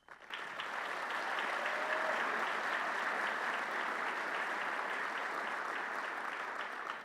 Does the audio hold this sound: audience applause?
yes